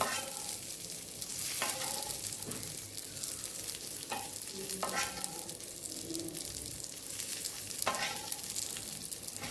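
Eggplant slices with garlic masala frying on a tava over medium gas, a steady close sizzle with occasional soft scraping and stirring knocks from turning the pieces.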